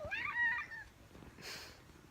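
A cat meows once, close and fairly loud, a rising then falling cry at the start, followed by quieter household noise and a faint breathy sound.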